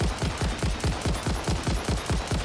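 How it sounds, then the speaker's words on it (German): A weapon in the video game Satisfactory fires a full magazine in a rapid, evenly spaced burst of loud shots, about five per second, with nothing else heard. "Ich habe auch nochmal ein ganzes Magazin gerade drauf geballert."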